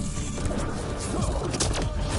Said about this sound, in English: Biotic explosion.